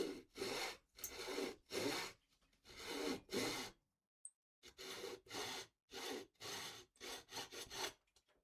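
Hand saw cutting partway through wood for an acoustic guitar build, close and clear, with steady back-and-forth strokes in two runs separated by a short pause, the second run quickening toward the end.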